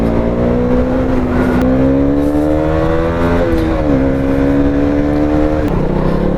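A KTM Duke 200 motorcycle hums along a road in Sikkim, its engine note loud and close, shifting pitch as the rider changes gears and throttles up and down, with wind noise and no talk.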